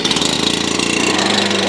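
A petrol cutoff saw engine driving a Geotrencher, a New Zealand trenching attachment, runs loud and close with a steady, even mechanical drone and no pauses.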